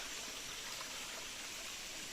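A river marking a boundary flows steadily, a dense broadband rush of moving water that stays even and unbroken throughout, with no voices.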